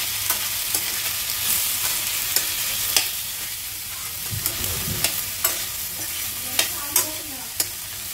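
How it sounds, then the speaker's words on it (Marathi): Mixed vegetables for Kolhapuri bhogi bhaji, including brinjal, are sautéed in oil with a spatula scraping and clinking against the pan at irregular intervals over a constant sizzling hiss, close and clear. "आता ह्या सर्व भाज्या आपण परतवून घेऊ."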